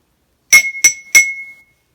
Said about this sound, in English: you've taken an empty glass and hit something against it and noticed that it makes sound